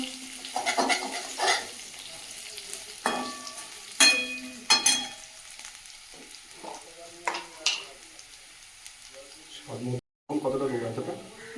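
Fried potatoes with ground spices such as cumin and turmeric sizzle in a pan, with intermittent scraping and stirring sounds and soft frying crackle, while people talk in the background.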